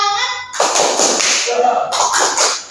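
Children in a classroom do a rhythmic group clapping chant, with sharp bursts of claps in quick patterns alongside voices chanting and speaking.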